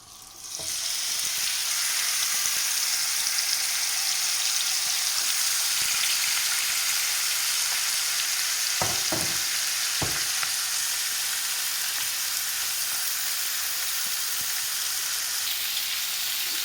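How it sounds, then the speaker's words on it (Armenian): Chicken wings frying in about a tablespoon of oil in a pan give a loud, steady sizzle that runs unbroken, with a few brief clatters partway through and no voices. "Ընդամենը 1 ճաշի գթալով տապակելու ենք, քանի որ հավի թևիկների վրա արդեն ավելացրել ենք ձեթ"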